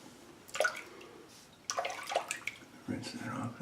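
An Edwin Jagger shaving razor with a 7 o'clock blade is rinsed under running water: short splashing bursts of water on metal, coming in three separate spurts with brief quiet gaps, close and moderately loud.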